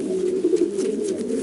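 A racing pigeon in a Romanian loft coos in soft, repeated throaty pulses, close and steady, with no talk over it.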